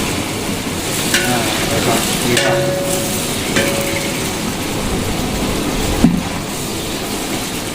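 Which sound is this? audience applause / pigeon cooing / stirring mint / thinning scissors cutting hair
stirring mint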